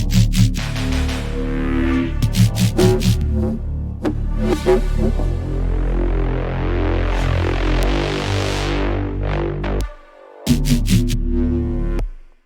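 Loud layered synth bass lines for dark liquid drum and bass pulse and throb in a busy electronic pattern, with rhythmic stabs, a rising sweep, and a brief dropout near the end.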